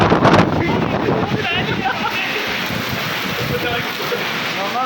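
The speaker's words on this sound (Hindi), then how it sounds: "इतनी तेज़ बारिश हवा की वजह से" Heavy rain and gusting wind roar steadily in Hafizabad, with buffeting noise against the microphone throughout.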